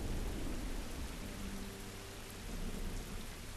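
Steady rain falls in the video game The Last of Us, an even hiss of drops with a low rumble underneath, constant and close, with no one talking.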